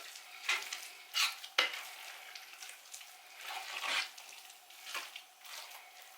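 A spoon stirs potato salad in a bowl, giving repeated soft, wet scraping and squishing strokes at an irregular rhythm, close up and fairly quiet, with no voices.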